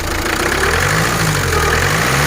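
A car engine idles steadily with a low, even rumble and hum, close by and loud, with no speech, while a clutch problem is being checked.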